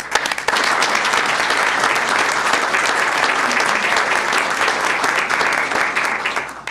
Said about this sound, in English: a round of applause to everyone involved